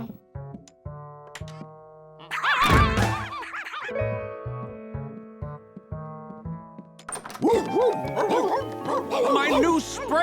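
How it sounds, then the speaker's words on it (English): Many dogs barking together in a children's cartoon, a busy clamor of yips and bow-wows at different pitches that swells and fades, with dialogue weaving in and out. "George, there are like 20 dogs in here."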